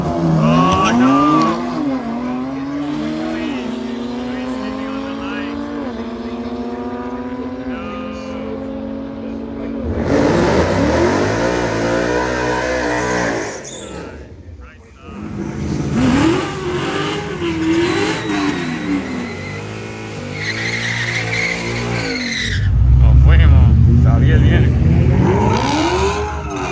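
A BMW M3 and M2 drag racing at a drag strip, engines revving and accelerating hard through rising gear-shift sweeps, loud and close, with talk mixed in under the engine noise.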